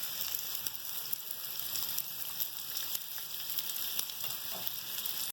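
Sliced onions fry in hot oil for chana biryani, giving a dense, even sizzle that continues without a break, close and moderately loud, with no voices.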